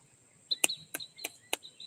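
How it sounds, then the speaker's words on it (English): Several short, sharp bird chirps ring out outdoors, spaced a few tenths of a second apart over a quiet background, fairly close. "oh, Isla, we're not stalking the birds."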